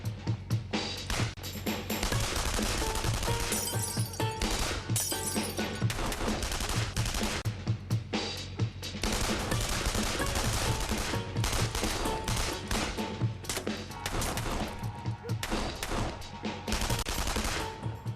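Heavy gunfire in an ambush scene from the TV series Valley of the Wolves crackles in dense, rapid bursts, loud and close, with short lulls between volleys of automatic shots.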